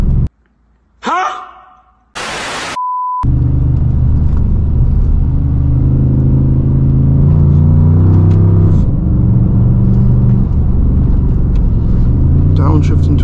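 A Dodge Charger R/T with a 5.7L Hemi V8 drones low inside the cabin during a drive, the engine note swelling as it downshifts into a curve, after a few brief electronic beeps at the start.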